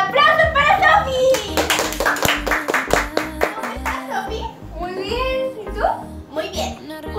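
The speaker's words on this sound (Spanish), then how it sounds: "¡Aplausos para Sofía!" Applause for Sofía, a young guest on a family variety show, with distinct sharp claps in an uneven rhythm close to the microphone while children and adults talk and call out over it.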